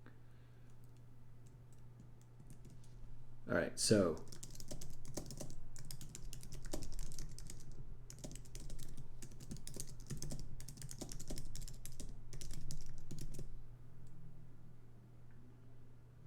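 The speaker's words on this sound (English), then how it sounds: "typing" Typing on a computer keyboard, a quick, irregular run of key clicks with short pauses, recorded close over a low steady hum, after a brief spoken remark at the start.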